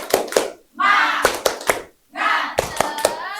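A fourth-grade class doing a rhythmic clapping cheer: sharp, close hand claps in quick patterned bursts, alternating with children shouting the cheer together.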